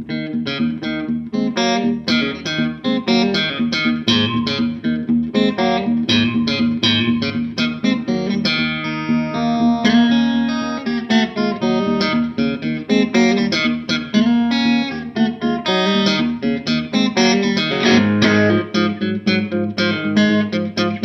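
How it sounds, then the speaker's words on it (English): Fingerstyle electric guitar played through a Boss Nextone transistor amplifier, a continuous run of plucked notes and chords, clear and close with no talking. "This is a sound in the Boss next tune transistor amplifier"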